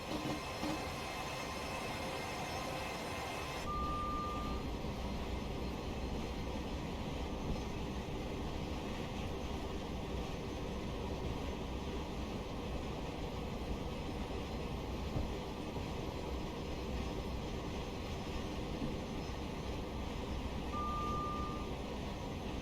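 A Class 707 electric train in Train Simulator Classic runs steadily downhill through Balcombe station on the London Victoria to Brighton line, giving a continuous loud rumble of wheels and motors with a short warning tone near the start and end.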